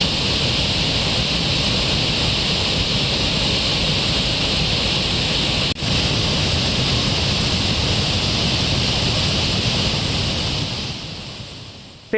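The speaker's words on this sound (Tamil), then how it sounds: "தேனி மாவட்டம் கம்பம் அருகே உள்ள சுருளி அருவியில் வெள்ளப்பெருக்கு ஏற்பட்டிருக்கிறது" Suruli waterfall in Theni district, in flood after rain, gives a loud, unbroken broadband roar of heavy falling water that stays steady throughout and fades slightly at the very end.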